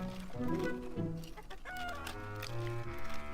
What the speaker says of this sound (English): why is there a chicken in my garden?